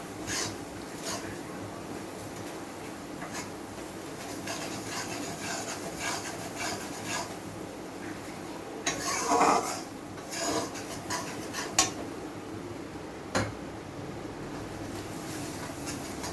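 Flour being fried and stirred into onions in a pan, a continuous rough scraping and rubbing texture with a few louder strokes midway, fairly quiet and steady throughout.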